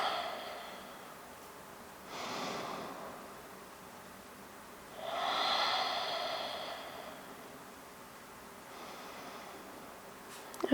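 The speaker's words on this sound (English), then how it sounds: "And just breathing." Slow, steady breathing during a seated yoga twist stretch, with two soft breathy swells, the second longer and fuller, close and quiet against a low background hiss.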